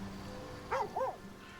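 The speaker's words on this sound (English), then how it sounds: "Puppy." Two short barks from a dog in Baldur's Gate 3, close and clear, standing out over a low background hum and soft rain-like hiss.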